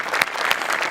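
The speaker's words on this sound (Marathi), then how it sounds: "जोरदार टाळ्या झाल्याच पाहिजेत" Audience applause at a Marathi comedy show, a brief loud burst of clapping from a close crowd with no talking.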